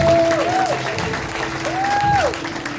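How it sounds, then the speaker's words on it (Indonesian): A congregation at a revival service in a prison claps together in a short burst of crowd applause. A voice rises and falls over the clapping. "Beri tepuk tangan buat Tuhan Yesus."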